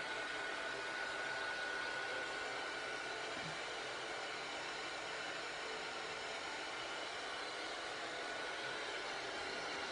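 A hair dryer blows a steady, even whoosh at close range over a mica-sprayed cardmaking panel, constant throughout with no talk.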